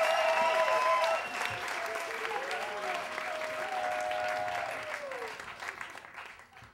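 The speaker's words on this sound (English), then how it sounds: "Big round of applause." An audience breaks into a big round of applause for a speaker coming up at a talk, loud dense clapping that gradually thins and fades toward the end, with a voice briefly heard over it.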